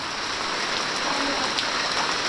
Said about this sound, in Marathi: मोठा पाऊस आलाय काकीकडून आलोय घरी पाऊस पण जोरदार आलाय हा बघा